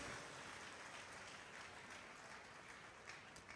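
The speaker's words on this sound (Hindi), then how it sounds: "ताली बजाकर थैंक्स करें परमेश्वर का।" A church congregation claps together in praise during a Hindi-language worship service, making a steady, broad wash of applause that carries on evenly throughout at a moderate, somewhat distant level.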